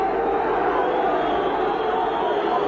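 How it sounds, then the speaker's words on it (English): A football crowd at a 1983 Scottish Premier Division match between Dundee and Dundee United boos the referee, a steady, dense roar of many voices holding at an even level, broad and distant-sounding. "Supporters booing the referee's decision"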